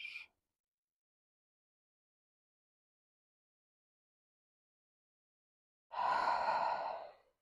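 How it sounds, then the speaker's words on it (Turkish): Deep breaths during a pilates stretch: a brief soft exhale at the start, a long silence, then a fuller, loud airy breath lasting over a second near the end, close and without talk. "Şu bedenin önü açılırken iyice nefesle doldur."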